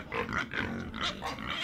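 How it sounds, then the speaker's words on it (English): A farm pig grunts and snorts in a rapid run of rough, close bursts with no talking. "Pig."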